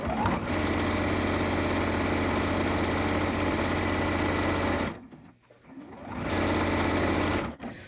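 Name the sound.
sewing machine stitching fabric blocks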